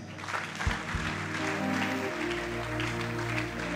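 A church congregation at a prophetic revival service applauding to acclaim the Lord, steady dense clapping throughout over a sustained low musical drone.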